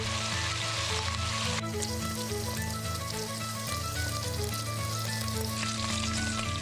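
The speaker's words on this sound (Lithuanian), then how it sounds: "apkepame iki gražiausio paskrudimo. Nepamirštame vartyti, kad apskrustų iš visų pusių" Beef browning in a pot for Irish Guinness stew, seasoned with salt and pepper, gives a steady, close, loud sizzle and crackle of frying meat in fat that continues throughout with no talking.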